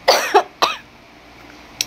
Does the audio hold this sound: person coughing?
yes